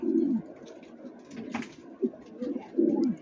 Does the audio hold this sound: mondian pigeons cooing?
yes